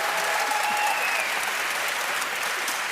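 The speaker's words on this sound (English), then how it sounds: "Big applause for you guys." Warm applause greets a group of young inventors at a prize event, a continuous crowd of hands clapping at steady volume throughout, with no voices over it.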